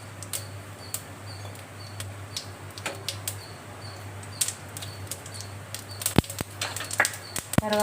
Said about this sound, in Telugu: ఫస్ట్ మనము తాలింపు గింజలు వేసేసుకున్నామండి.